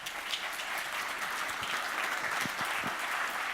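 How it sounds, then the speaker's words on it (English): An audience claps at an in-conversation event with Brazil's Minister of Finance Henrique Meirelles, producing a fairly quiet, even patter of applause from a room of listeners with a few sharper claps standing out. "Ladies and gentlemen, a round of applause."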